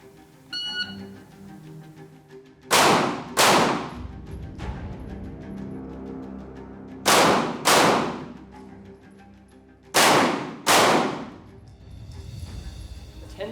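Close-quarters shooting drill at a range: three pairs of loud, sharp gunshots cracking close by, each pair quick and separated by short pauses.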